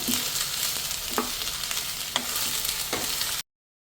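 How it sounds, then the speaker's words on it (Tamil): Bitter gourd pieces and grated coconut fry in hot oil in a pan, giving a steady close sizzle broken by a few soft stirring scrapes, with no talking. "பாவக்காய் இந்த எண்ணெயிலேயே வெந்துடணும்."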